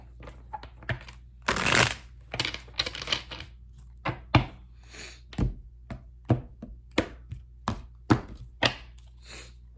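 Tarot cards being shuffled by hand, a series of quick papery riffles and taps in an irregular rhythm, close and fairly crisp.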